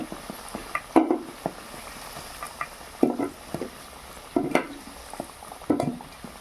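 Potatoes fry in hot oil for a mutton and potato curry, a low steady sizzle broken by a few sharp scraping stirs of a spatula against the pan, close by.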